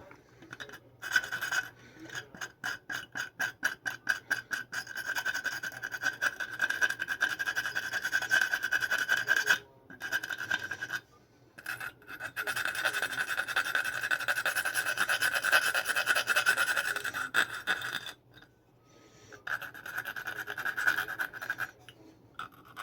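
Hand scratching and scuffing on a dirt bike engine case surface, a close, rasping scrape repeated in quick strokes, with a few short pauses between bursts.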